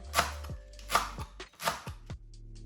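Green onions chopped on a cutting board, close up: three crisp knife strikes spaced roughly three quarters of a second apart, each followed by a soft thud and rustle, no speech.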